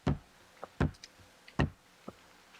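Knocking thumps on a wall demonstrated in a courtroom, a few sharp, fairly faint knocks in an uneven pattern: two heavy knocks, then lighter taps, then another heavy knock and a softer one.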